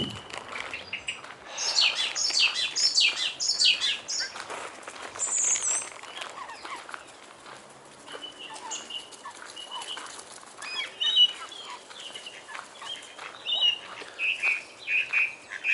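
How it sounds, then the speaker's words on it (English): Several birds sing and chirp in a park, with bright, overlapping high calls and tweets that come and go, moderately close and clear, with no talking. "Damn nice bird song."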